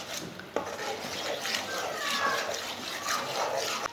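Spoon scraping and stirring besan roasting in ghee in a pan on the stove while making homemade mithai, a steady close rasping and clinking that runs continuously with a couple of sharper knocks.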